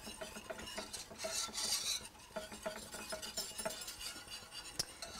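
Melted cheese sauce being stirred in a pan: a continuous soft scraping and rasping with faint clinks of a utensil, steady and close, with no voices.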